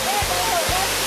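Waterfall at Wat Tham Mueang, a loud, steady broadband rush of falling water filling the whole clip, with a faint voice underneath.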